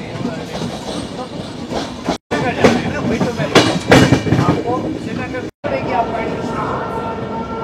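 The 22317 Sealdah–Jammu Tawi Humsafar Express passenger train runs at high speed, a loud continuous rumble with clattering wheel beats, broken twice by brief near-silent dropouts.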